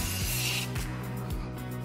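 Color Mist food coloring spray hisses in a continuous close aerosol burst that fades after under a second, followed by faint rubbing over a low steady hum.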